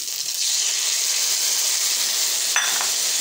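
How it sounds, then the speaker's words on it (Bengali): Chicken pieces fry with spices and soy sauce in a hot pan, giving a loud, continuous close-up sizzle with a short sharper crackle or stir near the end and no voices. "দিয়ে তারপরে আবার অল্প ভাজুন"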